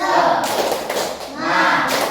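In a primary classroom during a coding lesson, children perform a rhythmic clapping chant, with a group of young voices calling out together over sharp, patterned hand claps, fairly close and lively.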